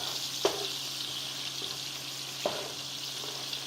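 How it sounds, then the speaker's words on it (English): A pan sizzles steadily while something is sautéed and stirred before steak strips go in, a constant close frying hiss with a few soft spatula clicks at intervals. "So I will begin to basically saute it, mix it around some."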